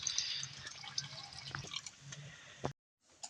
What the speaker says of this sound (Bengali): মা এই যে আমাদের এই মাটির ফিল্টার দিয়ে জল বের করছে বের করে বের করে এই বোতলে ভরবে